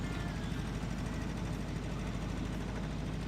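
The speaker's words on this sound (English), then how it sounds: "This engine is so loud." A World War II jeep engine runs in Tank Mechanic Simulator, a loud, rough, steady low rumble with rapid mechanical knocking that never lets up.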